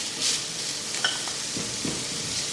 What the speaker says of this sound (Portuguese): Esperar ela fritar um pouquinho. Já fritei a carne aqui por 5 minutos.